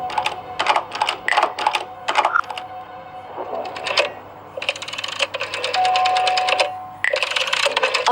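A telephone in the mystery game Frequency Missing rings in repeated short bursts, interleaved with clicking, typing-like interface sounds, loud and close with no talking.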